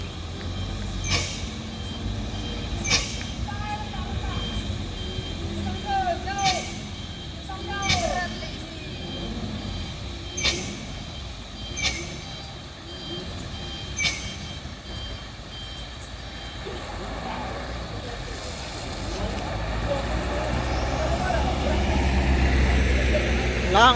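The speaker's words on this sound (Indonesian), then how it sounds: "Truk Hino nggak kuat nanjak." A red Hino truck engine labors hard on an uphill climb, a heavy rumble under regular reversing beeps and air-brake hisses, with people talking over it.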